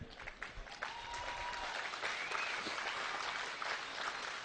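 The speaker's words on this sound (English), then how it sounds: "You like that? Good, you can clap." An audience at a political speech applauds steadily. The clapping is fairly quiet and distant and fills the room evenly without a break.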